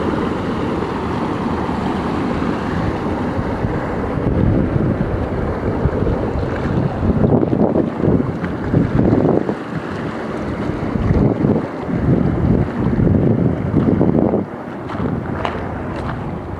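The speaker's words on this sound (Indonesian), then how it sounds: "Jalan menjadi aliran sungai ini ya, saking derasnya." Rushing floodwater from the swollen Waung village river pours across a road in a loud, continuous roar, with gusting surges and wind buffeting the microphone throughout.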